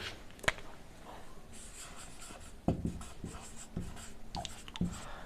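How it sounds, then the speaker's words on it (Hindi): Pen writing out a geometry proof on paper, close and quiet, with short strokes and taps in an irregular rhythm and no talking. "सबसे पहले गिवन लिखेंगे"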